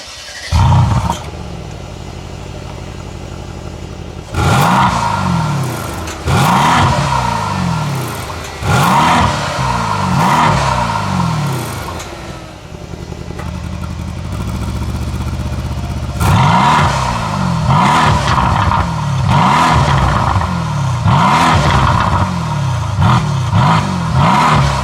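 A 2019 Mercedes-AMG C63s engine, with its induction and exhaust heard from inside the car, revs up and falls back again and again, each loud rising sweep followed by a drop and a steady drone between pulls.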